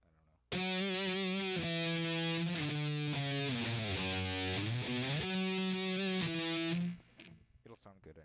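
Electric guitar playing sustained distorted chords with a bending, wavering pitch, loud and continuous for about six seconds before cutting off to quiet shuffling.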